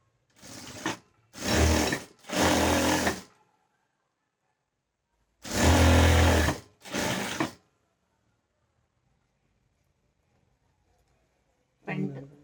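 An electric sewing machine stitches a blouse cross belt in several loud, close bursts of whirring running lasting a second or so each, separated by near silence.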